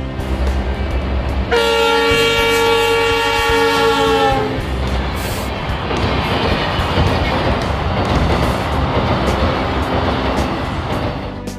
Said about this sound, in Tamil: மண்டபம் ரயில் நிலையத்தில் இருந்து ராமேஸ்வரம் வரை சுமார் 80 கிலோமீட்டர் வேகத்தில் ரயிலை இயக்கி சோதனை நடத்தப்பட்டது